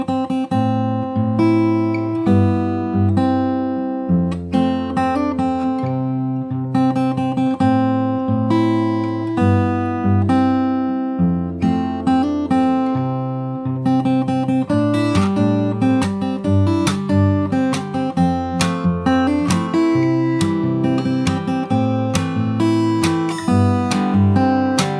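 A fingerstyle guitar plays the chorus of a pop song without slaps, with steady picked bass notes under melodic upper notes, clear and close throughout.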